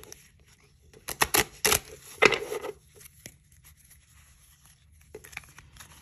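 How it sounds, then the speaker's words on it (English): Deck of playing cards being shuffled by hand, a few short crisp riffling bursts separated by pauses, close and fairly quiet with no talking. "I'm going to come back and shuffle the deck and pick my card for next week."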